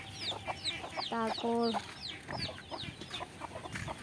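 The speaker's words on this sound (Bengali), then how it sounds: "লাল মুরগির বাচ্চাগুলো আবার এখানে" Red hen and her young chicks cluck and peep nearby in a poultry-rearing shed, with a burst of repeated clucks in the middle, high thin chick cheeps throughout, and someone speaking briefly.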